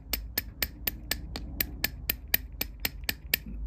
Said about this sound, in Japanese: 私はスタッカーの 下をこのような、 ハンマーで こういう感じで